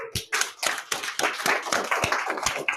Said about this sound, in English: Okay, give me a clap.